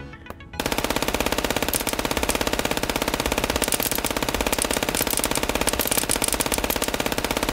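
Rapid machine-gun fire in the FPS Chess video game rattles on almost without a break, a loud, dense burst of shots that begins after a short quiet moment and runs to the end.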